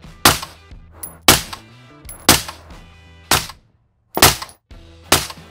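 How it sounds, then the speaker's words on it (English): Suppressed shots from a stock AR-15 rifle fitted with a suppressor, six sharp reports spaced about a second apart, each with a short ringing tail, close and loud with no voices. "Here we have a stock rifle with the same suppressor that we've been shooting already."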